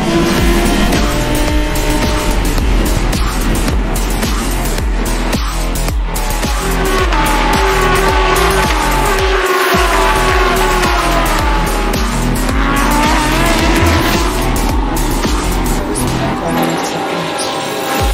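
Lamborghini Super Trofeo race cars at COTA accelerating uphill into turn 1 after the green flag, a loud, dense pack of roaring engines with climbing revs and tire squeal, continuous and close.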